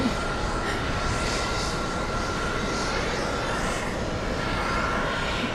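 Airplanes at JFK airport, heard as a steady, broad engine roar that holds at a constant level with no words spoken.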